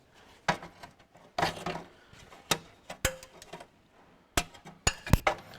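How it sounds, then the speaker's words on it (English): Sharp taps of a plastic-handled hammer striking, irregularly spaced, about ten hits over several seconds, some in quick pairs, with quiet gaps between, while fitting a dash-to-bonnet rubber kit on a Ferguson tractor. "my plastic coated hammer here, plastic handled hammer"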